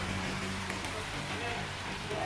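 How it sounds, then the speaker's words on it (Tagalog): Heavy rain pouring during a motorcycle ride in Rizal province, a dense continuous hiss of rainfall on surfaces close by, with a voice talking faintly beneath it. "Lakas ang ulan, oh."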